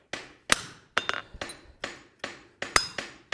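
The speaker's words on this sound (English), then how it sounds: "I'm just going to back split this, which is going to help kind of break that seam open, but without hitting my own anvil" A hammer strikes a forged rasp in a steady run of about eight sharp, ringing blows to back split it on an anvil, each hit close and loud with a brief metallic ring.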